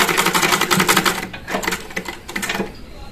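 A sewing machine runs straight stitching on a baby girl's kurti in quick rapid bursts of close, rattling needle clatter, pausing briefly between runs.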